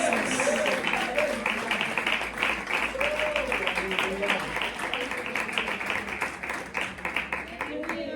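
A church congregation claps steadily in a fast, even rhythm, with voices talking and calling out over the applause.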